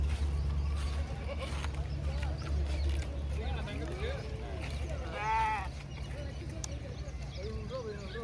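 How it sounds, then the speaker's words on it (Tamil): Lambs bleat at a livestock sale in Madurai. A short wavering bleat stands out over a continuous low rumble and general market noise. "செம்மறி குட்டி பார்த்தீங்கன்னா வாங்கி வந்திருக்கு சேல்ஸுக்கு"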